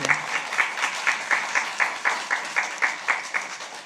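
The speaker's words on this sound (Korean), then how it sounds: "우리 박수 한번 칠까요?" A church congregation applauds with steady rhythmic clapping at a Friday worship meeting, the claps falling in an even beat throughout, close and fairly loud.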